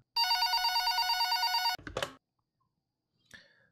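A telephone rings in a horror video game set on a hospital night shift, one long electronic ring burst near and loud, followed by a short clatter and a faint blip in near silence.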